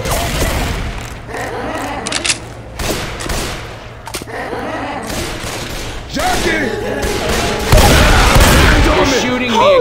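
Rapid gunfire crackles in Left 4 Dead 2, sustained bursts of shots and booms layered with game sounds and players' voices talking over the action.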